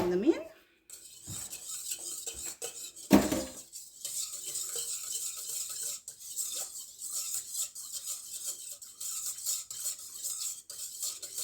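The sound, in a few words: stirring olive oil into soap in a pot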